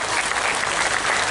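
An audience at a religious gathering for a haul commemoration claps in a dense, continuous burst of applause, loud and brief.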